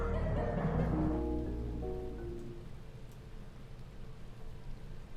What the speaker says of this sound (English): I end it with the raining and the sirens as it started with.